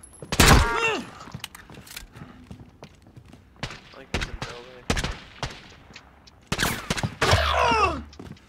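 Gunshots from enemy players in an online shooter game crack out in scattered, sharp bursts at mid distance, interleaved with loud, excited talking from players.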